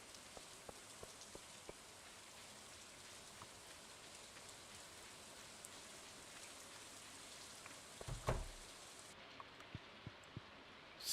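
Steady rainfall in the farming game Stardew Valley, a soft continuous patter of drops with a brief louder thump near the end.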